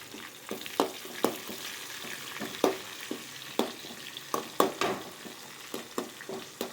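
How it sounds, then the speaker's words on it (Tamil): Tomato and curry leaves fry in a pan, a soft continuous sizzle broken by repeated sharp clacks and scrapes of stirring. "இதெல்லாம் கொஞ்சம் நல்லா பொரியட்டும்"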